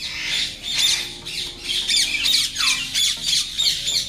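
Young birds with long beaks squawk in rough, harsh bursts, several repeated calls in a close, loud series with short gaps between them.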